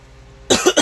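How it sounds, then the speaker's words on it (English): A single short, sharp cough bursts out after a moment of near silence, close and fairly loud. "I'm sorry about the cough."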